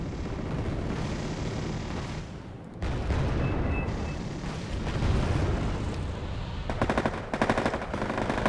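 Rapid machine gun fire in the Wargame Airland Battle strategy game, dense continuous bursts with booming blasts mixed in, loud and close, a sharper rattling stretch near the end, no talking.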